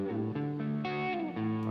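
An electric guitar played through distortion from the Line 6 Helix Native amp-modelling plugin rings out in a few sustained, saturated notes and chords, clear and upfront with no talking.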